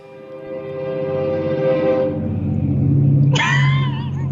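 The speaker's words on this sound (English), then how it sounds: "Toot, bitches. That's the train that runs by my house." A Caltrain commuter train runs past a house with a steady rumble, then a loud, sustained horn blast cuts in near the end, close and dominant over the train noise.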